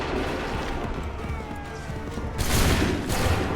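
Massed musket volleys ring out in an Assassin's Creed III battle, a continuous rattle of gunfire that swells into a louder, fuller burst of shots near the end.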